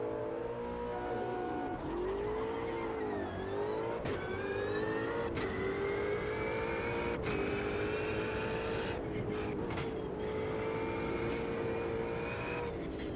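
A race car in Automobilista 2 at Cadwell Park revs and shifts through gears, its engine note climbing and dropping several times in a loud, continuous drone with sharp gear-change breaks and no voices.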